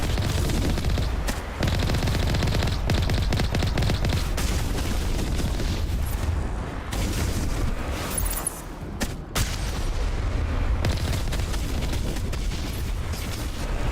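Rockets and explosions pound away in a Mass Effect battle against a Colossus, a dense, continuous barrage of booms and blasts with a few brief dips in the roar.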